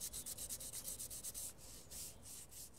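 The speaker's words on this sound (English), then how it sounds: "I've just finished doing the 400 grit sanding on the alloy" Hand sanding an alloy wheel with 400 grit sandpaper: quick rhythmic back-and-forth rubbing strokes, close and steady, slowing into longer strokes partway through, with no talking.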